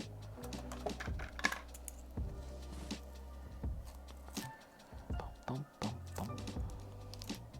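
A sponge is cut down to a smaller size for sponge-painting a model kit. Soft, crisp cutting snips and taps come close by, quiet and irregular, with brief pauses between them.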